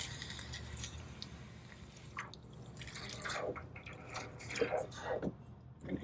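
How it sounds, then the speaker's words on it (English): Molten silver quenched in water while casting into beans, a series of soft sizzling hisses and small wet drips, quiet and irregular, clustering more densely toward the end. "You can hear the metal quenching in there."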